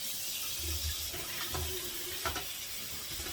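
Hot water pours from a tap in a steady, close splashing stream that runs without pause and without talk.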